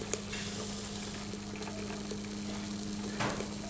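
A Kelly Kettle Trekker camp kettle's overflow water runs onto its fire and quenches it, a steady close hiss and sizzle of water on hot fuel with a brief louder burst near the end.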